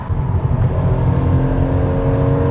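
A Kia K7 Premier sedan accelerates hard, its engine building into a steady, heavy, muffled drone heard from inside the cabin, with no talking.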